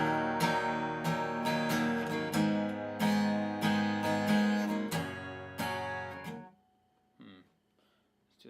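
Guitar slowly playing the opening four measures of a song, strummed chords with steady rhythm for about six seconds, then fading to near silence with a few faint handling noises.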